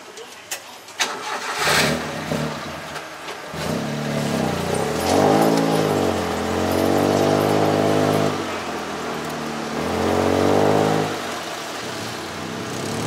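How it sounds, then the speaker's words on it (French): A tuk-tuk engine in Bangkok starts with a few clattering sputters, then revs loudly in repeated surges with brief easing between them, close by and rough, with no talk over it. "dans le tuk-tuk qui fait un bruit d'une Lamborghini"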